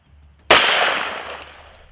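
A single loud rifle shot fired while zeroing a FLIR RS64 60mm thermal sight outdoors, a sharp crack followed by a long ringing decay, close and alone.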